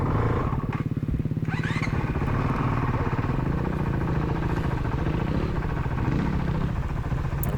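An enduro motorcycle churns through slippery, muddy jungle at a trophy race, its engine a loud, close, rapidly pulsing chug that holds steady throughout, with no talk.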